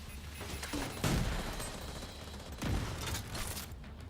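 Gunfire in a video game, two strong shot bursts about a second and a half apart over continuous crackling game noise, moderately loud with no speech.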